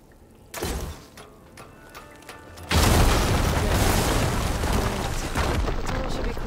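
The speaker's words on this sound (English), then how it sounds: "Hitting those blaze barrels with fire ammo should do the trick." Blaze barrels in Horizon Forbidden West blown up with fire ammo: a sharp thump and mechanical clicks, then a loud sustained roaring explosion and crackling fire that fills the rest of the scene.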